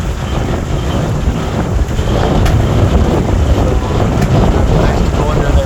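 Strong wind roars across open water on the Trent Severn Waterway during a boating trip, buffeting the microphone in a loud, continuous rush with waves splashing beneath.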